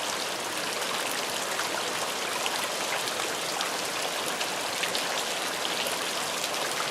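Steady rain falls outdoors on a rainy day, a dense, even patter of drops on surfaces with a trickling, watery hiss that never lets up.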